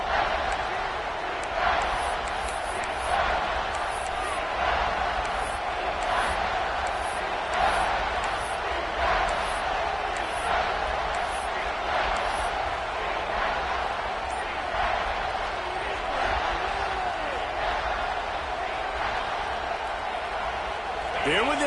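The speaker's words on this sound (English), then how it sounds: "And with this place rocking, the crowd forces a false start." Stadium crowd roaring at an American college football game between Memphis and Georgia: a loud, sustained roar fills the whole stretch, with rhythmic surges of chanting and clapping pulsing through it.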